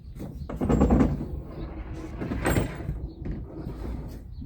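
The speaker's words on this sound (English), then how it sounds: "you just slide it in this crack right here" A heavy deck storage drawer slides into a slot in the bed of a 2017 Black Widow truck, giving a rumbling scrape with a couple of dull knocks as it settles into place.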